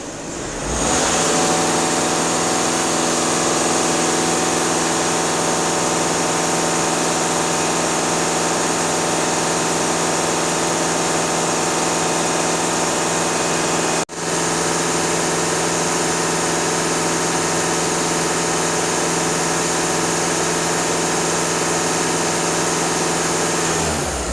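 A Skoda Superb 2.0 TDI diesel engine holds a steady 2500 rpm, a loud, even drone with a constant tonal hum that continues unbroken apart from one brief dip partway through, with no voices.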